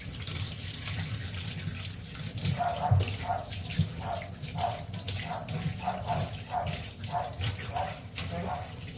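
Water runs from a tap into a sink for heating, a soft, steady trickle with a quiet, rhythmic patter of drips or small splashes in the background.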